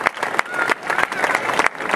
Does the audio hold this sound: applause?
yes